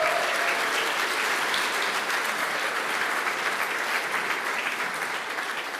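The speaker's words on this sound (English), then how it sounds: "Please join me in a round of applause." Audience at an awards ceremony applauding, a sustained wash of many hands clapping that holds steady and then eases slightly toward the end, with no voices over it.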